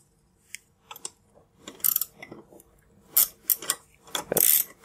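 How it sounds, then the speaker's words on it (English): A ratcheting wrench loosens nuts on a threaded rod at a car's clutch pedal, making bursts of quick close metallic clicks separated by short pauses, with no talking. "I'm going to use my ratcheting wrench here"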